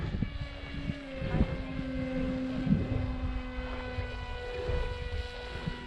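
A Strix StratoSurfer RC plane flies in gusty wind after a hard hand launch, its steady electric motor whine droning at moderate distance with a few louder swells as it passes and turns.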